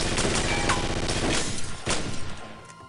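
Enemy gunfire in the first-person shooter game Chaser, a loud, dense fusillade of rapid shots mixed with crashing impacts, sustained for a couple of seconds before thinning into a few scattered bursts.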